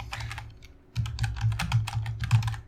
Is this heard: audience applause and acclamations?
no